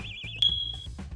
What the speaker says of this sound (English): the filament dryer is done. It's beeping.